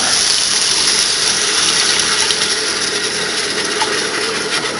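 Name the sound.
pouring water into a pot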